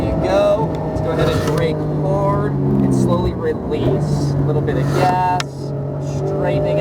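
Porsche 911 GT3 on a race track, engine note steady then dipping under hard braking and rising again as throttle returns, heard close from inside the cabin beneath continuous instructor talk.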